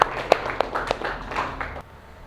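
Applause for a student in a classroom, a short burst of scattered hand claps with a few sharp louder claps over roughly two seconds, then fading to quiet room tone.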